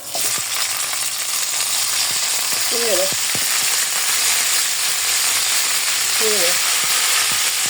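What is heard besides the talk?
chicken frying with garlic in a pan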